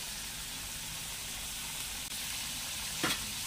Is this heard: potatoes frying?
yes